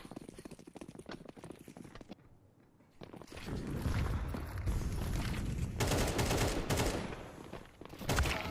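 AK rifle gunfire in the video game Counter-Strike 2 during an esports cup match, bursts of rapid shots and footsteps in the game mix, loud in stretches with a brief quiet gap, and no clear talk over it.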